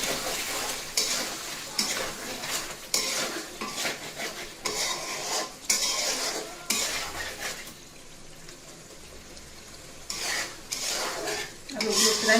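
A metal spoon stirs and scrapes potatoes and chicken gravy in a pot, with rhythmic clanking strokes, a soft underlying sizzle and brief pauses between bursts of stirring.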